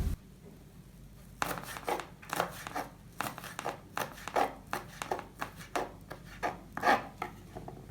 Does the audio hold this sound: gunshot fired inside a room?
no